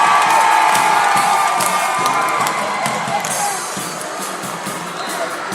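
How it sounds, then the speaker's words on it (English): A crowd of basketball fans cheers and shouts loudly and steadily in an arena at a Class 2 state finals game as fans dance with the band, a dense wall of noise that eases only slightly toward the end. "And folks, this is entertaining right here. Listen to the crowd."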